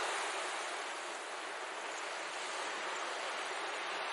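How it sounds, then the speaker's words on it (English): Steady, loud roar of storm-driven ocean waves crashing against a village shore, a continuous broadband wash with no distinct breaks, sustained throughout. "Waves, larger than anyone had ever seen, crashed against the shore, reaching dangerously close to the village."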